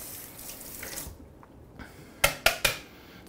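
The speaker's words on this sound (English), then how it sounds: "We'll rinse it off." A spoon rinsed under a kitchen tap: a soft stream of running water, then a pause and three sharp metallic clinks close by.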